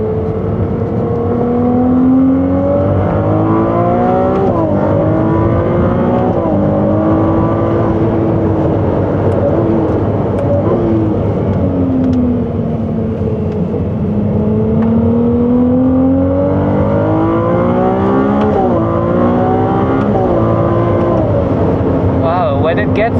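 A Ferrari race car engine at Clark Speedway climbs through the rev range in steady, loud swells and dips, droning continuously throughout while people talk over it inside the car.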